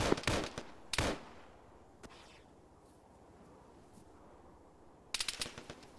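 Automatic gunfire bursts in an Arma ShackTac mission: a rapid cluster of shots at the start, a single crack in the middle, then another quick volley at the end, sharp and fairly close over quiet background.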